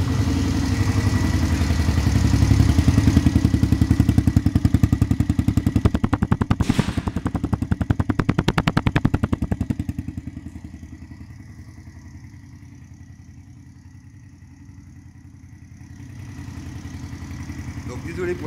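A Magpower R Street 50cc motorbike engine runs indoors, loud and throbbing at higher revs at first, then settling into a quieter, steady, rhythmic putter at idle.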